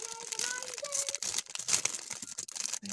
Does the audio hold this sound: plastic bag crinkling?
yes